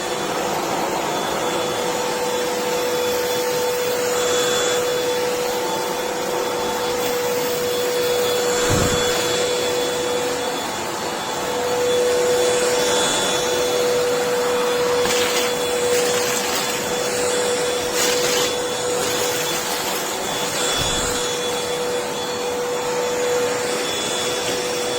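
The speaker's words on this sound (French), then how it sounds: "J'allume l'aspirateur." Amazon Basics 2-in-1 cordless vacuum cleaner with a 150 W DC motor runs steadily at close range, a continuous whine with a sustained tonal hum, indoors over a floor scattered with small debris.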